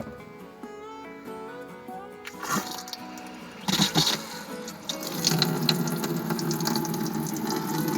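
A small sink tap fitted in a Dacia Dokker van conversion starts up after some background music, and water runs and splashes into the basin, growing louder and steady through the latter half.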